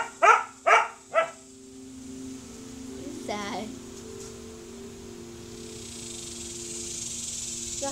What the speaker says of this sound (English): I feel like whenever they bark, they're like talking.